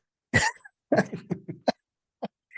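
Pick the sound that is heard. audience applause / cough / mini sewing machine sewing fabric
cough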